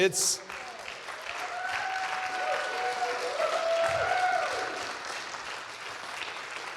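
A church congregation gives soft, steady applause at moderate distance, with a few voices and faint tones drifting through the clapping.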